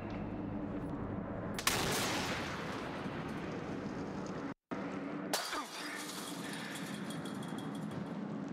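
A gunshot in the horror video game Until Dawn: one loud, sharp blast with a long echoing decay, followed a few seconds later by a second crack after a brief dropout, over a dense rumbling game ambience.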